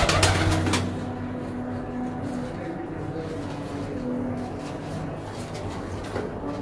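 Pigeons coo softly against a steady low rumble of background noise, with a brief flurry of clattering at the very start.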